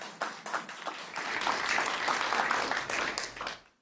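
An audience claps at a gun-violence bill signing in Illinois, starting with a few scattered claps and swelling into fuller applause before tapering off to quiet.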